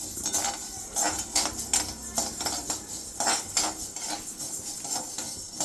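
Coriander seeds dry roasting in a pan for sambar powder, with rhythmic metallic scraping and clatter of a spoon stirring the seeds, repeated strokes at a moderate level.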